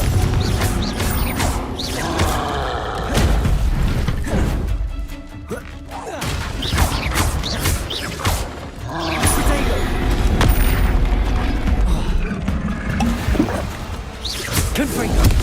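Confringo fire-blast spells cast in the Hogwarts Legacy video game, loud repeated booming explosions and crashing debris over continuous game sound, with a voice speaking intermittently.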